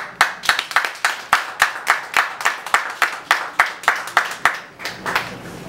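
Steady rhythmic clapping from a small group, about three claps per second, loud and close with no talking over it, at an installation ceremony.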